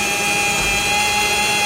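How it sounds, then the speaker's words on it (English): A power drill whines steadily and loudly as it bores a hole through the wooden wall of a shed. The sound is a close, continuous buzzing drone with no pauses. "I'm just going to drill a hole"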